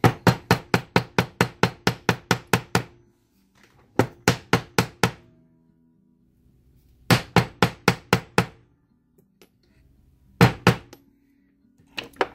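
Bursts of sharp metallic hammer strikes in quick even runs as a metal spiral is shaped in a dapping block for earrings, separated by quiet pauses, close and loud.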